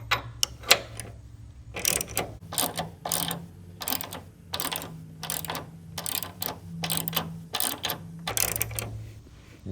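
A ball socket bolt is threaded into a nutsert on a Ford F-250 truck tailgate, giving repeated short bursts of close, rapid mechanical ratcheting clicks separated by brief pauses.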